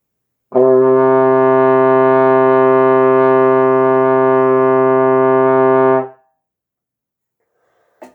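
A trombone holds a steady concert C for about five and a half seconds, one clean sustained brass note with rich even overtones, played alone up close and cut off cleanly before silence.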